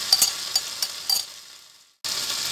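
Green chilies go into hot oil with softened tomatoes in a pan for chana aloo, giving a quiet sizzle with a few light spoon clicks as they are stirred; it fades almost to silence, then the frying resumes.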